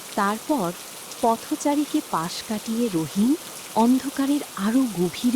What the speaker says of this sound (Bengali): বৃষ্টির শব্দের মাঝে এখন প্যাঁচার ডাক শোনা যাচ্ছে